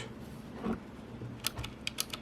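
A handful of sharp, crisp mechanical key clicks from blue switches on a Rampage Ardor keyboard tap out in a short irregular burst over quiet background hiss.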